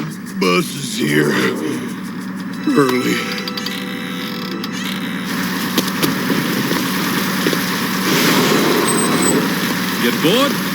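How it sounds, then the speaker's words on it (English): A bus engine idles with a low, steady rumble as the bus pulls up, running beneath voices talking over it. "Bus is here."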